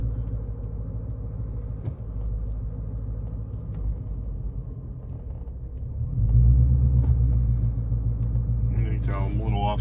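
A car reverses slowly into a parking spot behind it, its low engine rumble steady throughout and swelling louder and heavier for the last few seconds.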